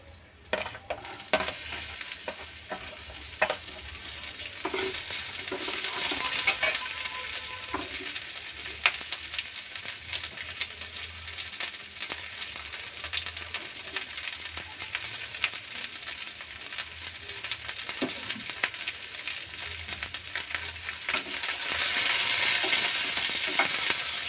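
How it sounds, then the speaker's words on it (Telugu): Onions for a chutney alongside ginger fry in hot oil in a pan, giving a loud, continuous sizzle with scattered scraping stirs and clinks and no voices. "మనం ఉల్లిపాయలు కూడా వేసేసుకోవాలి"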